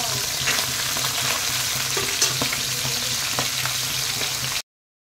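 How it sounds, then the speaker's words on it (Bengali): Pabda fish fry in oil in a pan, producing a loud, continuous sizzle with scattered crackles and stirring scrapes before the sound cuts off abruptly. "তা দেখো বন্ধুরা, মাছগুলি সমস্ত ভেজে নিয়েছি।"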